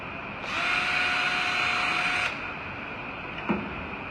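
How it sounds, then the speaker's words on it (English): A power drill whirs steadily for about two seconds at close range, drilling a hole in a bin lid, then stops, leaving a low background hum and a small click. "First of all, we drill a hole in your bin lid."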